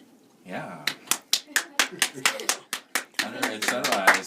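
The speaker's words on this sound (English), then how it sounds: "there's some applause" A studio audience at a live morning TV music session applauds, with about a dozen distinct crisp claps that then blend into a denser patter of clapping, with faint voices mixed in.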